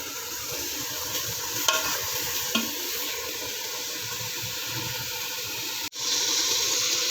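Margok stew sizzles and bubbles steadily in a pan while it is stirred after tomato paste is added, with a couple of faint clinks from the utensil.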